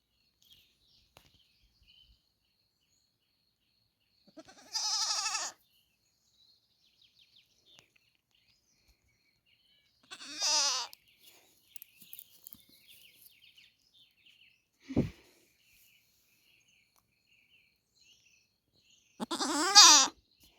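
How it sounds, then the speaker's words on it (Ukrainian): Goats on a small Ukrainian homestead bleat in four separate loud calls spaced several seconds apart, with quiet gaps between them and no talk. "мої перші козички, які я привіз на господарство"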